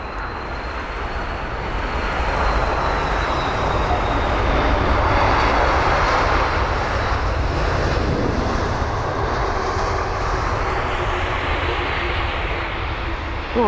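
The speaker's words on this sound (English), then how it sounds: "It is the 330 of Turkish Airlines." A Turkish Airlines Airbus A330-300 arriving at London Heathrow on a flight from Istanbul, its jet engines a steady, loud broadband roar that swells gently and holds across the whole pass, with no talk over it.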